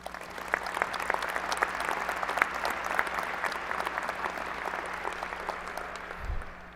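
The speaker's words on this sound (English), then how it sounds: "Let us give a round of applause for our magnificent provost." An audience applauds the university provost at a campus ceremony, a steady dense patter of many hands clapping throughout, fairly near and even in level, with a low hum beneath and a brief thump near the end.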